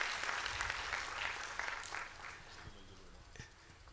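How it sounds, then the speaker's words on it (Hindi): An audience claps at a 2023 chaturmas sermon in Udaipur, a dense patter of many hands that is loudest at first and gradually thins and fades. "ताली बजाओ ना, सम्मान करो ना।"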